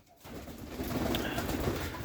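Pigeons coo softly in a pigeon loft, a low, murmuring chorus, close by and continuous over a brief stretch.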